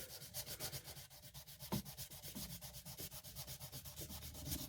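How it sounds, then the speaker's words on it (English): Sandpaper rubs back and forth over the frets of a 60th Anniversary Fender Telecaster, two frets at a time, making a quiet, rhythmic scratching with about four strokes per second that carries on steadily with no voices. "I'm just using the 2 fingers on the sandpaper and hitting 2 frets at a time"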